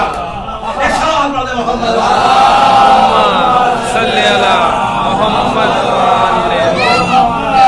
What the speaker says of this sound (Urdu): نعرہ لگا کے کہیے یا علی ہے ہماری